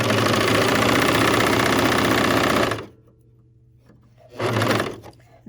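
A bernette 64 serger stitching and gathering a fabric strip runs in a loud, steady mechanical whir, stops, then starts again briefly for a short second burst.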